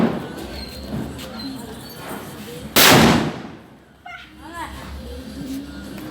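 A single loud firecracker burst during Diwali celebrations, a sharp bang with a brief tail, set amid children's chatter and nearby talk.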